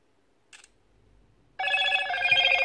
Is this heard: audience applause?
no